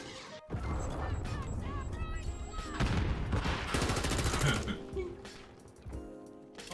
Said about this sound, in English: Y'all just shooting at each other.